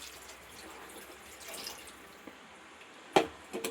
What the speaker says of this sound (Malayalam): തേങ്ങാപ്പാൽ ഒഴിക്കുകയാണ്